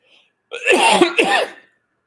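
A short, harsh dry cough, two rough bursts in quick succession, close to the microphone with no talking.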